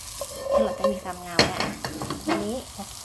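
Carrots sizzle and scrape in a hot oiled wok as they are stirred, with a sharp clank of a utensil against the pan partway through.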